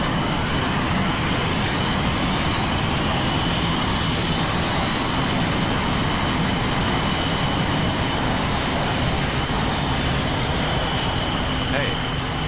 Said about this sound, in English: Once that's fully revved up, spool up the main engines